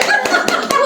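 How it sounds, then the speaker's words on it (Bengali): Family members clap together around a birthday cake being cut at home, a short burst of overlapping hand claps with a few sharper individual slaps, close and lively. "এই হাততালি দাও না সবাই।"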